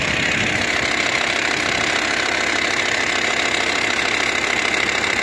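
A steady, loud Volkswagen Touareg engine hum with a dense mechanical rattle from a faulty cooling fan runs unchanged throughout, with no voices.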